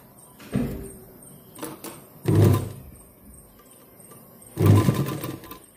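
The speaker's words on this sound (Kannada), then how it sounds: "ಈ ಲೈನಿಂಗ್ ಬಟ್ಟೆ ತುದಿಗೆ ಆದಷ್ಟು ತುದಿಗೆನೆ ಒಂದು ಹೊಲಿಗೆನ ಹಾಕ್ಕೊಳ್ಳಿ" A sewing machine stitches along the edge of lining fabric in three short whirring runs of about a second each, close and clear, with quiet pauses between them.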